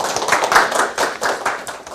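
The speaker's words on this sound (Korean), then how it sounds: "여러분들 박수로 맞아서 말씀을 듣도록 하겠습니다" An audience at a university lecture on artificial intelligence claps to welcome the speaker, giving steady, dense applause from a modest crowd in a hall for about two seconds.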